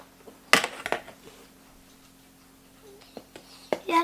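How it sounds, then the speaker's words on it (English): A big spoon mixes flour, sugar and salt in a bowl for chocolate chip cookies. There are a few sharp, sparse clinks and taps of the spoon against the bowl, with quiet gaps between them and a faint background hum. "you have to mix them all in the flour with a big spoon"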